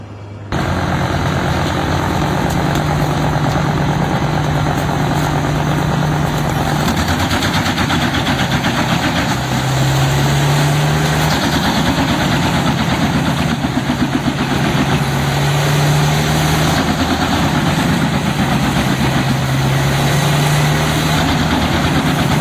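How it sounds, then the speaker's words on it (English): A Petzolato PTH 1400 wood chipper powered by a Caterpillar C2 engine runs steadily and loudly throughout, a continuous low engine drone with vibration and periodic rising hums, no speech. "The Petzolato PTH 1400 to 1000 wood chipper, powered by a robust Caterpillar C2 engine, looms like a massive steel beast"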